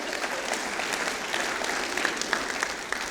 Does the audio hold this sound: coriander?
no